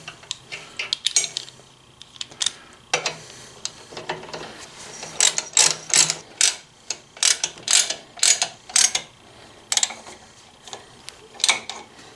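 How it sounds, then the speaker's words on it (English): Repeated ratcheting clicks from a 6mm Allen wrench tightening the front bolts on AltRider lower crash bars fitted to a Honda Africa Twin CRF1000L, close and crisp, coming in irregular bursts of quick ticks with short pauses between them. "we'll take our 6mm Allen wrench and tighten up these 2 front bolts"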